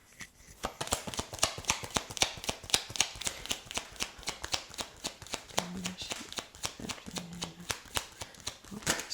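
A deck of tarot cards is shuffled by hand for a full moon reading, with a rapid, continuous run of crisp riffling flutters lasting several seconds, close and clear.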